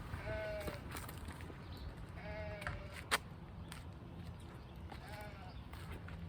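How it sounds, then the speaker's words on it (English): Goats bleat three times at spaced intervals, moderately close against a steady background hum, with a single sharp click between the calls. "I don't know where that's coming from, but there's goats in the area"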